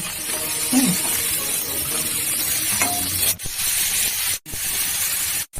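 Tomatoes hit a hot pan of oil for a potato and egg curry, setting off a loud, steady close sizzle and hiss with a brief stirring scrape, broken by two short gaps near the end.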